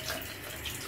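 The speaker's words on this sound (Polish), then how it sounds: "i leci woda." Water runs from a tap in a pizzeria in Rome, a steady, quiet, even flow that lasts the whole moment with no voices over it.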